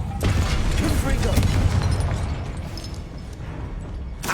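Hogwarts Legacy's Confringo fire spell bursts in a loud, rumbling explosion that fills the space with dense crackling blasts, fading toward the end before another hit, with a voice mixed into the noise.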